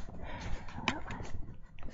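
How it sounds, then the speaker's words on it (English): A dog makes a short, sharp whimpering yelp near the middle, set against soft, close snuffling and shuffling sounds. "That's my dog."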